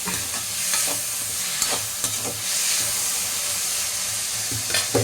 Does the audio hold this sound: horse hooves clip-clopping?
no